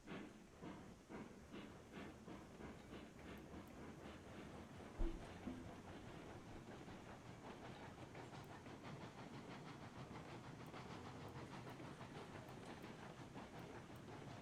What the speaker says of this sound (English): we are going to take the train here up to the end of the loop